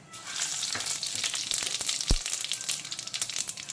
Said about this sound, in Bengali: এখন দিয়ে দিচ্ছি পাঁচফোড়ন